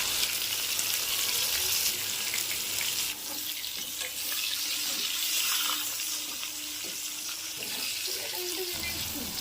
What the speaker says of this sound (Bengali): অল্প পরিমাণে হলুদ আর লবণ দিয়ে পটলগুলিকে ভাজবো